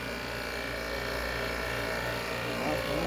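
A vacuum pump pulls a vacuum on a car A/C system being reassembled, giving a steady, loud mechanical buzzing drone that holds constant throughout with no pauses.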